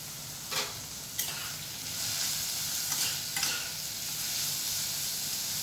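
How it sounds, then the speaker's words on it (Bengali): Steady sizzling of food frying in a pan, with a few sharp scrapes and clicks of stirring, close and moderately quiet. "সে ভাজা হতে থাক"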